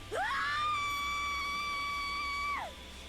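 A single long, loud scream from the video game Higurashi When They Cry, rising sharply and then held steady at a high pitch for about two seconds before sliding down and cutting off.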